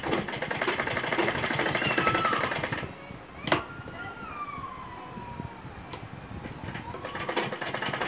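A sewing machine whirs loudly in a continuous run while stitching a loop onto fabric for a baby garment, then falls quieter with scattered clicks and a brief sharp knock.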